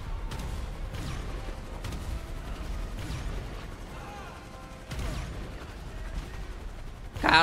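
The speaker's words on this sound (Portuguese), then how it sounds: "Eles estão atirando em mim, eles estão atirando em mim." Enemy tanks fire during an alien invasion of Los Santos in GTA 5, with dull booming shots and distant gunfire rising at intervals over a rumbling low background.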